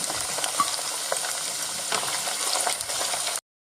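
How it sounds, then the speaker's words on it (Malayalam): A cup of garlic fries in hot oil for lemon pickle, a dense, close, continuous sizzle with faint stirring scrapes before it stops suddenly. "1 കപ്പ് വെളുത്തുള്ളിയാണ് ഇതിലേക്ക് ഇട്ട് നല്ലോണം ഒന്ന് വറുത്തെടുക്കാം"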